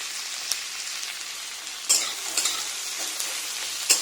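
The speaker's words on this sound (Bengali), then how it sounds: "এখানে পেঁয়াজটা ভাজা হচ্ছে" Onions sizzle steadily in a hot pan, with occasional clinks and scrapes of a utensil stirring them.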